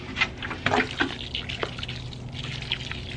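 Water pours and trickles quietly onto soil with a few splashy drips, a soft continuous liquid sound, as newly planted bare root roses get a heavy first watering.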